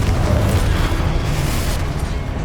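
The Confringo spell blast in Hogwarts Legacy goes off as a dense, rumbling boom, loud and close, sustained like a fiery burst rolling on with no talk over it.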